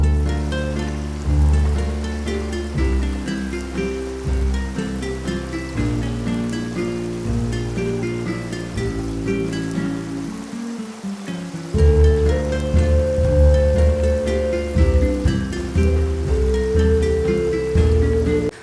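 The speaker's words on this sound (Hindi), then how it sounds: "अब तेज़ तेज़ बारिश हो रही।" Steady, heavy rainfall in Switzerland hissing continuously, with tonal background music playing over it throughout.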